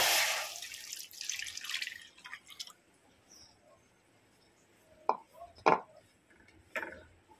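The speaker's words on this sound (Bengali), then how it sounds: "দুধটা দিয়ে দেবো।" Milk poured into a hot kadai makes a hissing rush for about two seconds, followed by quiet scattered drips and soft knocks.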